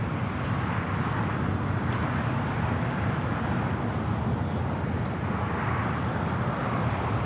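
Amiri Flight 1, a Boeing 747-8, rolls for takeoff on runway 25 left at LAX, a dense, loud, constant engine roar with deep low rumble filling the whole stretch, no talk heard.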